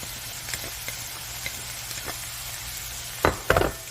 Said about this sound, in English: once your meat is cooked through, you want to stir in your spinach